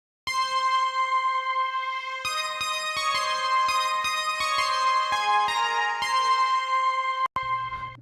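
Main 80s-style synthesizer melody layer for an indie pop/rock song, bright bell-like sustained tones stepping through a melodic line, clear and close with no voices, ending on a brief pause and a final note.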